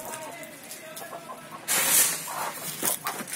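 Country hens settling into a new house cluck softly against a background hiss, then a louder burst of clucking and rustling follows, with voices faintly present.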